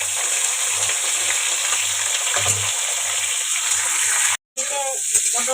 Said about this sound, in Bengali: পটলটা ভাজা হচ্ছে।